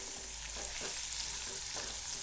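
Bitter gourd frying in oil, a continuous close hissing sizzle with faint bubbling pops throughout.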